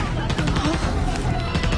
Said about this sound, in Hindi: बाहर गोलियां चली रही है